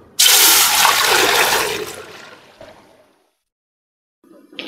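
Water pours in a steady broadband rush into a wok set up for boiling chow mein, loud for about two seconds, then tapering off and falling silent. A faint clatter follows near the end. No one speaks.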